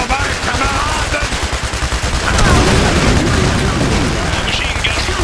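Machine-gun fire in the Iron Harvest strategy game: rapid, close bursts of shots give way to a louder, sustained roar of gunfire and blasts.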